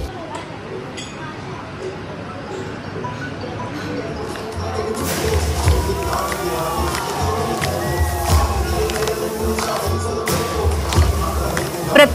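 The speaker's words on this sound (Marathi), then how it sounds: "अंधेरीचा सम्राट या गणपती बाप्पाला बघायला देखील मोठ्या प्रमाणात गर्दी होतीये।" A large crowd mills at the Andhericha Samrat Ganesh pandal, a dense murmur of many voices that swells into louder cheering and shouting halfway through and then stays busy and close.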